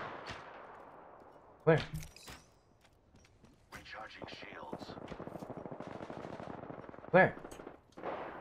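Automatic gunfire in the video game Apex Legends, rapid bursts and sharp individual shots, some loud and close, others more distant, with players talking over the action.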